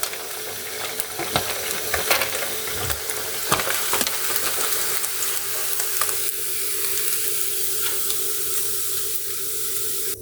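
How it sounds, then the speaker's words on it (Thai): Catfish deep frying in oil until crispy makes a continuous bubbling sizzle, dotted with small crackles and a few stirring clicks, close and steady with no talk. "ก็ทอดไปสักพักหนึ่งตอนนี้ ปลาดุกก็เริ่มกรอบแล้วครับ"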